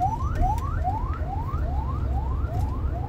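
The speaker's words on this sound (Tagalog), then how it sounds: "Ay, may ambulansya, no?" An ambulance siren wails in a steady repeating rising sweep, about eight cycles, loud and close over a low rumble of traffic.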